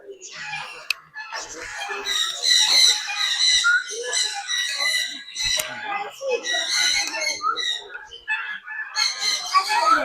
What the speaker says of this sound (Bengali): বন মুরগি, বন মুরগি